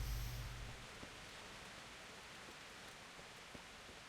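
Steady, even hiss of rain falling in the video game Kingdom Come: Deliverance, continuous and fairly soft, with a few faint drips and taps standing out now and then.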